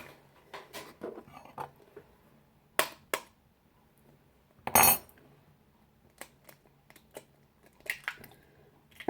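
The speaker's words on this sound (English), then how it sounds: "whisk 3 eggs, cracked like this, in a large mixing bowl" Three eggs whisked in a large mixing bowl for a white chocolate and yogurt cake give close, irregular metallic clinks and scrapes, with a few sharper bursts and quiet gaps between them.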